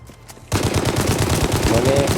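Rapid automatic gunfire erupts in the open-world game Gangstar Mirage City as tires are shot out, a loud dense string of shots bursting in after a short quiet lead-in.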